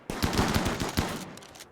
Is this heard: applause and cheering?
no